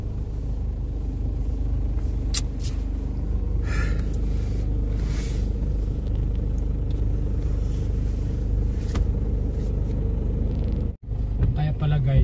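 Steady low car engine rumble from inside a vehicle crawling through heavy traffic in the Philippines, on a road trip from Manila to Mindanao, continuous and fairly loud with a brief dropout near the end.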